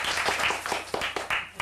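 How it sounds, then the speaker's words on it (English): An open mic audience claps, a short burst of scattered hand claps with audible individual hits and some faint chatter, moderately quiet and fairly close. "I want you all to applaud."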